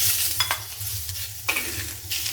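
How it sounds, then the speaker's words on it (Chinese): Shrimp hit a wok over high heat and sizzle hard, with scraping spatula strokes and clanks recurring every half second or so above a low burner rumble, close and steady, no speech. "改成大火，虾仁进锅"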